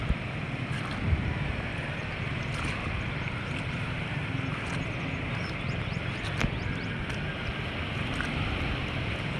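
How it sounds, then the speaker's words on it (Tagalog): Rough sea waves slosh and churn steadily around a boat, with gusty wind buffeting the microphone and occasional splashes; no one speaks. "Medyo malakas-lakas yung alon ngayon."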